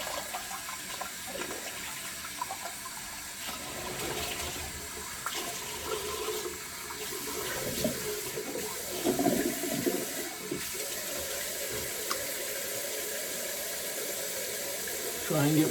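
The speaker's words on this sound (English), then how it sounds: "Rinse off with a bit of cold water." Cold tap water runs steadily from a faucet into a bathroom sink while a face is rinsed after shaving with soap. The flow is continuous and close, with splashing and occasional louder sloshes.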